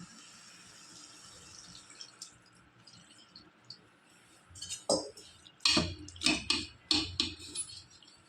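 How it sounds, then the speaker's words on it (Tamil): Water is poured into a pan holding raw green mango, turmeric and salt for mango pachadi, heard as a series of close, splashing gushes and trickles that grow louder toward the end. "மாங்காய் நனைகிற அளவுக்கு தண்ணி ஊற்றிக்கிங்க."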